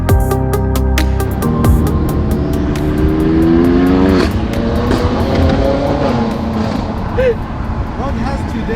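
A BMW 520d diesel saloon is driven hard. The engine revs climb repeatedly, with clear drops at each gear change, and loud cabin road noise persists throughout.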